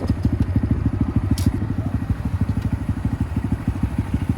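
A Honda Grom motorcycle engine idles up close, its steady, rapid low thumping loud and even throughout, with no talking.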